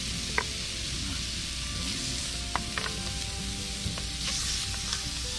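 Steady, loud sizzling of chicken wings frying on a hot grill, with occasional sharp pops and crackles over the constant hiss.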